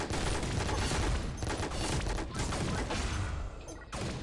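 Cannon fire in the Pixel Gun 3D shooter game, on a volcano map: heavy, loud blasts and bursts of gunfire packed tightly together, with a brief lull near the end before another hit.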